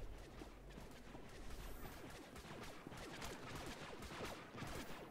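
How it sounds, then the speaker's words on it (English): Rapid enemy blaster gunfire in Star Wars: The Old Republic during a Trooper mission: a dense, steady barrage of sharp overlapping shots that keeps up without pause, heard fairly faintly. "now that thing's firing at me."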